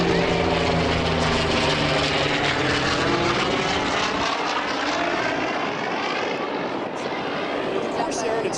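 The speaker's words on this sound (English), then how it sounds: "Here he comes, Mr. Dan McHugh. F4U Corsair." F4U Corsair propeller warbird passing at an air show, a loud, rough engine roar that sweeps in pitch and then fades as the plane moves off.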